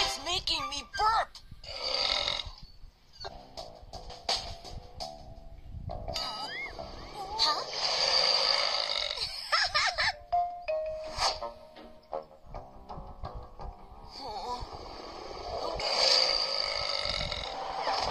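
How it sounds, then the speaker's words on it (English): Loud, drawn-out burps after drinking a triple-carbonated orange soda, several belches in a row close to the microphone, with someone talking in between them. "it's making me burp"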